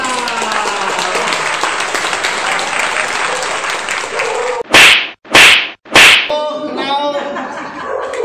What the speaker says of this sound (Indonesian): Kasih tepuk tangan lah